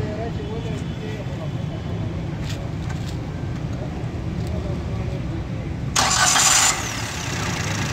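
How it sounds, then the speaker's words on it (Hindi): Soundproofed Suzuki Alto 660cc engine idling with a steady low rumble, broken by a brief bright burst near the end; someone talks over it. "ये गाड़ी स्टार्ट करें इधर"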